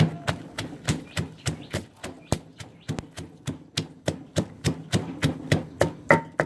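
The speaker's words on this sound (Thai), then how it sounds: "ใส่พริกกับกระเทียมที่เราคั่วลงไปโขลกนะคะ" Roasted chili and garlic being pounded in a mortar for a Lao-style chicken chili dip: a steady run of about twenty sharp, evenly spaced thuds, close and clear, with no talking.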